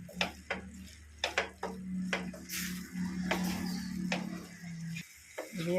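A spoon clinks and scrapes against a pan as ground pepper and cumin are stirred into mushroom gravy, several sharp metallic knocks over a low steady hum, close and moderately quiet.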